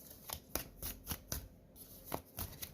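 A deck of cards is shuffled in quick repeated riffles, crisp rhythmic bursts close by with short gaps, no speech over them.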